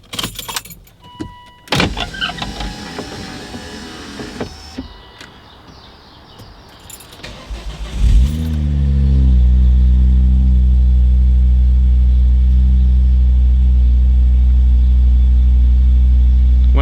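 Volvo V50 T5 with an exhaust manifold squeal problem: clicks and a mechanical whir as the windows lower, then the engine cranks and catches on a cold start, settling into a loud, steady close idle.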